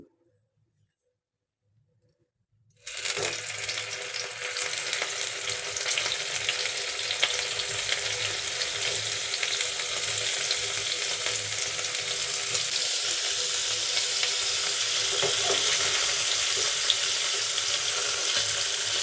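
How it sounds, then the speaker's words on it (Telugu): Paneer cubes fry in hot oil in a pan for kadai paneer, a steady loud sizzle starting abruptly after a few seconds of silence and holding continuously to the end, with faint stirring clinks. "ద్వారగా ఫ్రై చేసుకుందాం పన్నీరు రెండు ఇంకొక సైడ్ ఇలా తిప్పుకుందాము"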